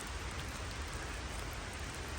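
Steady rain falling outdoors on a late-season blacktail deer hunt in western Washington, a dense even hiss with no breaks and no voices.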